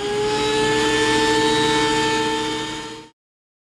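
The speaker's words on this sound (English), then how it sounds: "So planing creates a lot of chips, and I don't have a two-stage dust collector." A wood planer runs with a dust collector in a makerspace, producing a loud, steady whining hum with strong tonal overtones that cuts off abruptly after about three seconds.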